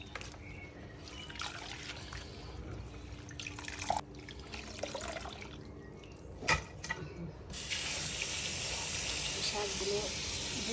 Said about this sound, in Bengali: শাকগুলো ধুয়ে নেই, বালু আছে, ভালো করে দিতে হবে